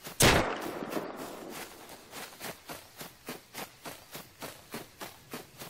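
Gunfire in the video game Rust: one loud, sharp shot opens, followed by a long series of fainter, evenly spaced thuds repeating at a steady rhythm.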